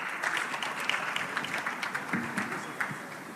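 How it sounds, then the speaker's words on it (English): Audience at the 3i Africa Summit applauds as members of the official party take their seats, a sustained round of clapping from a large hall, moderately loud and even, with a few sharper claps standing out. "a round of applause for them as they take their seats"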